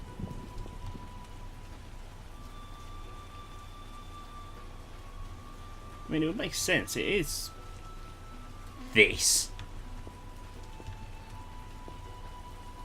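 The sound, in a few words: rain falling in video game The Witcher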